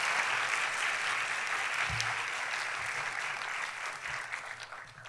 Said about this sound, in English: please join me in applauding this excellent panel.